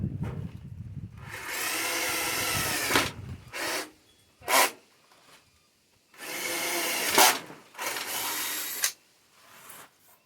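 A power drill with dull bits whines in several bursts, boring into wood for a horizontal beehive with a grinding buzz, separated by short pauses and brief clicks.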